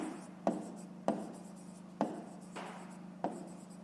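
A pen writes by hand on paper during a fifth-grade maths exercise, producing five distinct strokes or taps at an uneven pace, close and soft, each followed by a brief scratch.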